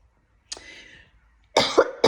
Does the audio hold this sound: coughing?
yes